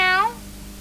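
A single short, high-pitched meow is voiced by a person imitating a cat, bright and close, fading quickly into quiet.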